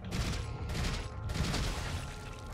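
Guns fire in Resident Evil 4 as a rapid string of bursts, several close shots cracking in quick succession over a steady rumbling background at moderate volume.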